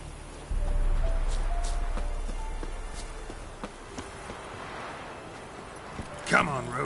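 Roach the horse's hooves clop faintly and sparsely in The Witcher 3, over a hushed outdoor ambience with a louder rustling burst near the end.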